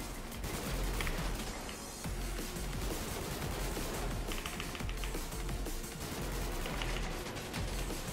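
Enemy gunfire in a video game, a dense run of rapid shots filling the scene at steady loudness, close and continuous from start to end with no voices over it.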